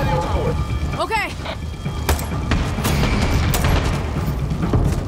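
Gunfire in the video game Far Cry 6, sharp cracking shots scattered irregularly through a loud, busy battle din, with a voice briefly heard early on.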